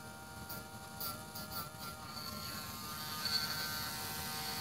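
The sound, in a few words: grinding a small piece of a slot car body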